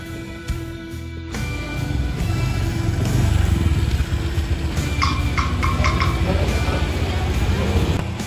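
A motorcycle engine idles and builds to a steady, loud rumble close by, with brief clicking and rattling sounds layered on top.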